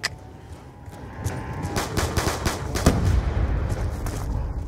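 Shotgun blasts and other gunfire in a zombie video game, a run of sharp, close, loud shots clustered in the middle and fading into a steady rumble, with no talking.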